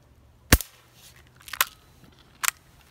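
Glass bottles, one a Bacardi bottle, shattering from gunshots, three sharp loud cracks spaced about a second apart, with no talking.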